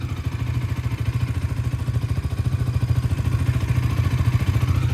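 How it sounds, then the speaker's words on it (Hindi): A 200cc sport motorcycle engine idles nearby with a steady, fast low thumping pulse that grows slightly stronger over a few seconds. "बाइक ऑन हो चुकी है, एक बार आइडियल साउंड सुन लो"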